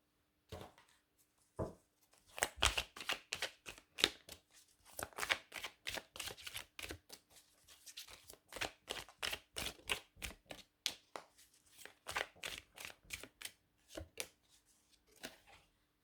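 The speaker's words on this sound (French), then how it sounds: "je vais essayer de placer les cartes pour qu'on les voit toutes" Tarot cards laid out one by one on a table, giving a long run of crisp, close slaps and flicks in quick irregular bursts with short pauses, no voices.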